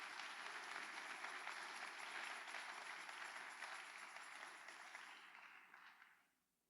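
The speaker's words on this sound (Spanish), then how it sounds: "denle un aplauso al Señor Jesucristo" A church congregation applauding together during a Lord's Supper service, a dense, steady wash of many hands clapping that carries on for several seconds and then fades out.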